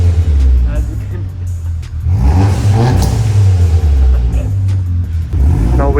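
A VRS exhaust rumbles and revs nearby, a loud low engine growl that swells through rising rev sweeps, with voices talking over it.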